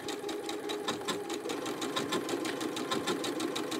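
A Janome Skyline sewing machine stitches a blind hem with a blind hem foot, a fast, even mechanical rattle of needle strokes running continuously close up, no talking.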